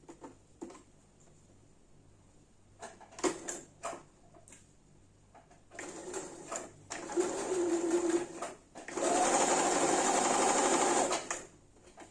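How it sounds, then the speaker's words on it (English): A sewing machine stitches satin fabric in several separate bursts that build to longer steady runs, the last one loud and sustained for about two seconds, with quiet handling pauses between them. "iron and sew this satin fabric all the way down"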